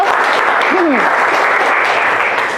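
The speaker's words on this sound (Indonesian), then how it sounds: "tepuk tangan dulu untuk Noval." Classroom applause for a student during an Indonesian history lesson, a loud continuous wash of clapping filling the clip, with a brief voice-like sliding tone early on.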